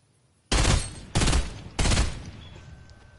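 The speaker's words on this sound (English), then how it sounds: "Are they shooting at you?" Three loud bursts of gunfire in Fortnite come in quick succession, each dense rattling volley fading briefly before the next.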